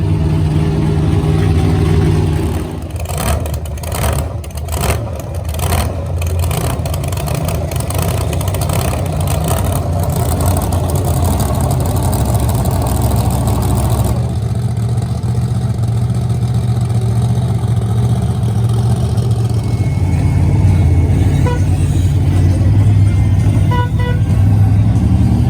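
Bounty Hunter monster truck at the Lucas Oil Speedway Monster Truck Nationals revs its engine loudly and continuously, the roar swelling and surging throughout amid arena noise.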